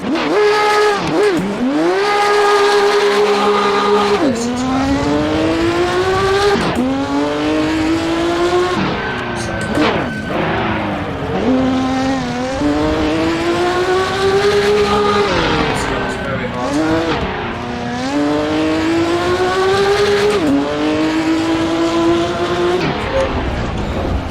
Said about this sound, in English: it sounds incredible, and this is a proper classic Formula 1 car